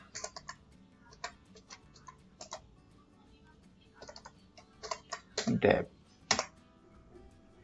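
Keys on a computer keyboard click in short, quiet bursts of typing, with pauses between. A voice speaks briefly near the end.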